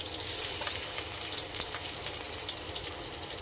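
Onion sizzling and frying in hot oil in a pan with green chillies while making masala Maggi, a steady close hiss with crackles and soft stirring, loudest at the start and easing slightly.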